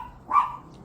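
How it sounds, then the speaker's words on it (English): A neighbour's dog gives a single short bark, fairly close and clear, standing alone against a quiet background in a home setting during a car oil change. "Oh, my neighbor's dog got out."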